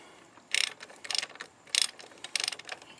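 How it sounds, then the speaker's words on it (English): A half-inch ratchet with a 17 mm impact socket tightening engine mount bolts on a Honda Accord with an F22/F23 2.2L or 2.3L engine: four close, crisp bursts of rapid clicking, separated by short pauses. "Using a half-inch ratchet with a 17 millimeter impact socket."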